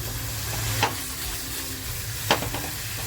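Fish masala with a splash of water added sizzles gently in a pan while being stirred, a steady close hiss broken by two sharp scraping knocks of the spoon against the pan.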